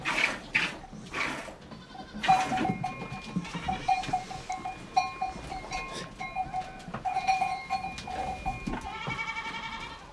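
Goats and kids bleat repeatedly during milking, several voices overlapping near and farther off, with clanking and rustling around them.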